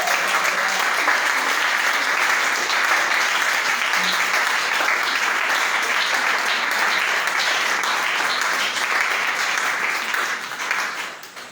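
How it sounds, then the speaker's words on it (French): A church congregation applauds loudly and continuously for several seconds, the clapping steady before tapering off at the end. "Est-ce qu'on peut acclamer pour le peuple?"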